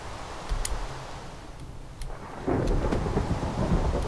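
Thunderstorm in the video game Minecraft (Feed the Beast modpack): steady rain with rolling thunder that swells loudly about halfway through and keeps rumbling close and heavy to the end, with no talking.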